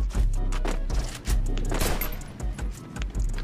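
MP40 submachine gun fire in the Free Fire battle royale mobile game: a dense, loud string of rapid shots with heavy low thumps, continuous across the whole stretch.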